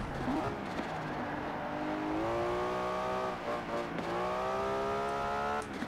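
A Nissan Skyline GTR engine in Forza Horizon 4 roars steadily while driving downhill, rising in pitch through revs with shifts between gears, loud and continuous without talk.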